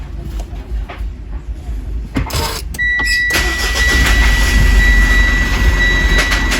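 Car with a brake system fault, engine cranking with a short burst of starter whirring, then catching and settling into a steady, close idle hum with a faint high whine.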